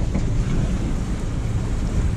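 A boat launches from Cleveland Harbour into Moreton Bay, with a continuous loud rush of engine, water and wind noise battering the microphone and no talk.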